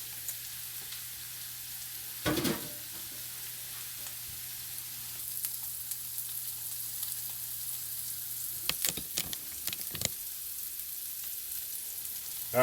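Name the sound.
ingredients sizzling while pre-cooked in a pan for baked beans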